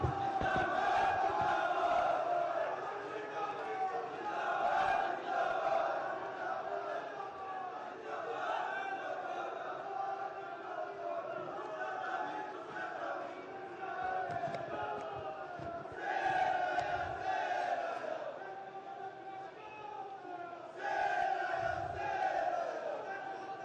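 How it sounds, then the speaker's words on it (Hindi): A crowd at a public development event in Chamoli welcomes the chief minister with loud, sustained cheering and applause, a dense roar of voices that swells and surges repeatedly over about twenty seconds. "माननीय मुख्यमंत्री जी जोरदार तालियों से स्वागत करें।"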